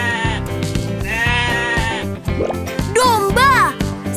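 Sheep bleating over bouncy children's farm-song music, with a couple of wavering bleats rising clearly near the end of the short stretch.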